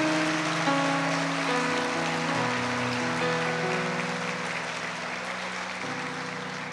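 A church congregation applauds during a sermon, a steady, dense wash of clapping that fills the whole stretch, with sustained organ or keyboard chords held underneath.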